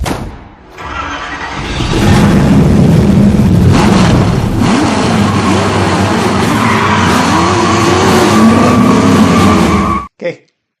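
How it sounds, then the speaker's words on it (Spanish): A car in a TV commercial revs its engine loudly with squealing, skidding tires for about eight seconds, the sound swelling and shifting pitch before cutting off abruptly. "En este anuncio sale un coche."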